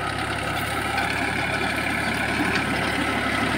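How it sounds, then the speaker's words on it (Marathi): A Mahindra Oja 2130 tractor running a rotavator in low first gear at about 1400 rpm gives a loud, steady diesel drone with a constant rumbling hum close by and no voices. "या स्पीडनी ट्रॅक्टर चालू आहे पहिल्या गिअरला."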